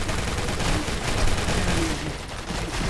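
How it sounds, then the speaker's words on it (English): Airstrikes launched in the online war game Karma Online: a dense, continuous barrage of rumbling blasts and rapid firing, close and loud throughout with no clear gaps. "you can hear the airstrikes being launched"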